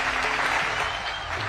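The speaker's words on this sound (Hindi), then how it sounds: "जोरदार तालियों के साथ" Brisk applause rings out from a large audience at a plaque unveiling ceremony held for the Prime Minister in Shahjahanpur, a steady, dense clapping that continues unbroken for the whole moment.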